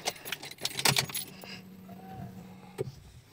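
Car keys jangle and clink near the ignition inside a 1996 Honda Civic LXi, a cluster of sharp metallic rattles in the first second or so, then a quieter cabin hum with a single later clink.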